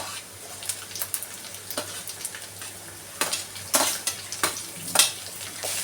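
Spring onion bulbs sautéing in a pan for vegetable fried rice, a soft steady sizzle broken by repeated scraping and stirring strokes that grow louder toward the end, with a low hum underneath.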